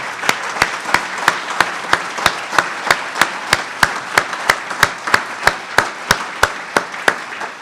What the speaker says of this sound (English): let's give them another great round of applause.